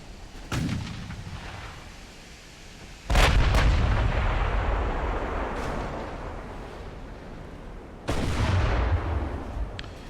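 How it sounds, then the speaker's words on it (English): Naval guns fire in a Dreadnoughts-era warship battle game: three heavy booming blasts, each rolling into a long rumbling decay, with a large explosion among them. "there's a nice big explosion"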